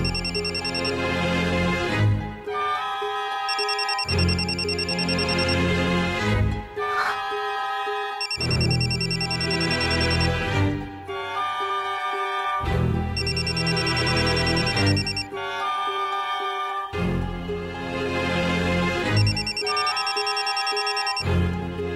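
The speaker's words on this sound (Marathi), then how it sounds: "हा का फोन करतोय मला?" A mobile phone rings with an incoming call, playing a repeating melodic ringtone in bursts of about two seconds. It is loud and close, with no talk over it.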